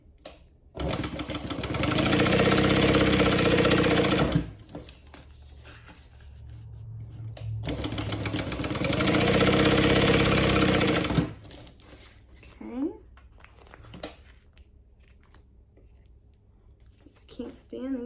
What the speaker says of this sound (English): Let's go ahead and top stitch.